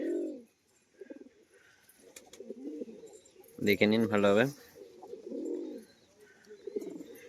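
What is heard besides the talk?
pigeons cooing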